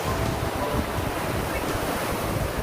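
Pacific Ocean surf pounds the Southern California shore in strong wind, a constant loud roar of churning waves with heavy wind buffeting the microphone and no voices.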